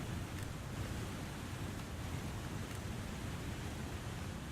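Waterfalls roar in the survival game The Long Dark, a steady, dense broadband rush that stays constant and unbroken, fairly quiet, with no voices over it.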